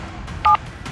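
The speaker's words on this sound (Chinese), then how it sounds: "姓陆的，你可算接电话了" A short telephone keypad tone in a drama scene, a single clear dual-pitched beep lasting about a tenth of a second over a quiet room background, with no talking.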